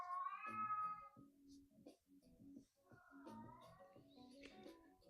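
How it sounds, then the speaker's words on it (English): A house cat gives a drawn-out, rising meow close by, followed by a person talking quietly in an indoor room. "Even my cat's impressed."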